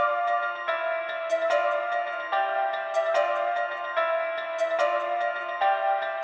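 Purity bell and xylophone presets in FL Studio play a layered trap melody together: bright, ringing bell-like notes struck in a repeating pattern, sustained and clear with no voices.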